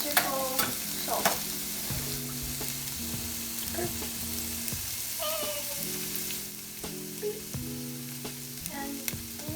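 A spoon stirs salt through vegan chana masala of chickpeas cooked in oil, a steady scraping and clattering against the pot over a continuous sizzle, close and moderately loud, with no talking.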